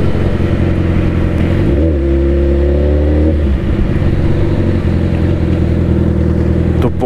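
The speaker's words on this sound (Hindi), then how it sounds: "आज बहुत दिन बाद बाइक निकाली है" A motorbike rides through Delhi traffic, its engine loud and close with a steady drone, briefly revving up around the middle before settling back to a continuous rumble.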